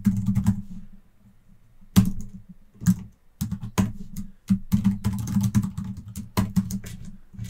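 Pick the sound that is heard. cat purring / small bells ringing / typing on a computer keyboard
typing on a computer keyboard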